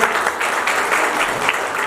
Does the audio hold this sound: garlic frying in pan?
no